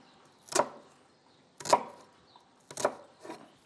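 A knife chops finely on a cutting board, preparing stuffing for Lebanese stuffed zucchini, with three or four distinct sharp knocks spaced about a second apart, close and clear with no talking.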